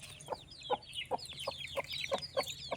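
Chickens and young chicks cluck and peep close by, with a steady run of short clucks and high chirps over a low background hum, and no talking.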